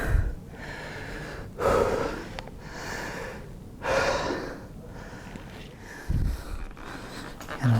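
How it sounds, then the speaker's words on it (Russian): A person who is soaking wet breathes heavily to catch their breath: close, loud gasping inhales and rough exhales in an uneven rhythm roughly every two seconds, with no speech. "маленько дышу, легче становится"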